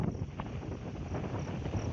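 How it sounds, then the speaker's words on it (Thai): Strong wind blows across open rice fields, a steady rough roar with heavy buffeting on the microphone, close and continuous with no other sounds. "ลมแรงนะฮะ"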